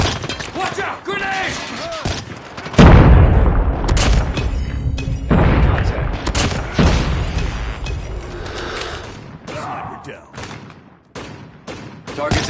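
Grenade blast and gunfire in the mobile shooter Call of Duty Mobile: a loud boom followed by rattling bursts of shots and sharp cracks, with game voice callouts heard over the combat.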